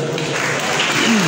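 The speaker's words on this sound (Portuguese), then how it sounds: "Uma salva de palmas." Crowd applause at a political party congress in Guinea-Bissau, a steady wash of hand claps filling the room with a faint voice underneath.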